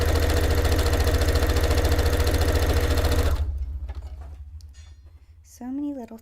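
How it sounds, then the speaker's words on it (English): A sewing machine stitching long straight seams on a cape/dress, running loud, fast and steady for about three seconds before stopping; quieter handling noises and a brief voice follow. "I will be sewing long straight seams"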